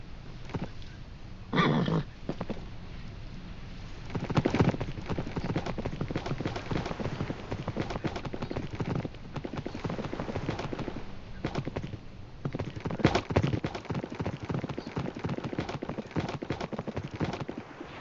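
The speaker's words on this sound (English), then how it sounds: "Oh, good, a horse." Muffled Minecraft horse hoofbeats clip-clop steadily across the scene, with occasional louder thumps and brief background noises over a continuous low rumble.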